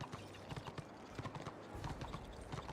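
Horse hooves trot slowly in the fantasy online game Warhammer Online, with steady, moderately close clip-clop beats against a faint background.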